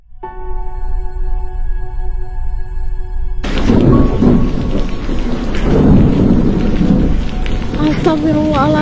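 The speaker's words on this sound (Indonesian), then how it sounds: "Ya Allah, petir. Hari badai gini." A thunderstorm bursts in with loud, sustained thunder and heavy rain after a quieter tonal opening, the roar continuing steadily to the end.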